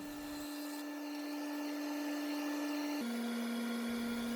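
A steady high-pitched whine of a wood lathe turning a wooden fruit bowl, running continuously with a slight drop in pitch near the end, no voices.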